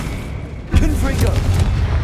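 Confringo blasting spell from Hogwarts Legacy, a sudden loud boom that bursts in after a short quiet stretch, then crackles and rumbles away under the continuing game noise.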